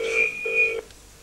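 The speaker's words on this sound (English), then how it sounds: "Oh, there we go, it's ringing out." A telephone ringing out on the line in a 1986 television studio, two loud electronic ring bursts in quick succession, close and clear, followed by quiet.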